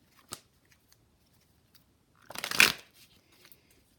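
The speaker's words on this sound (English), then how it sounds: "One more shuffle." Tarot cards are shuffled once in a quick riffling burst near the end, preceded by a single soft tap and near silence, close and fairly quiet.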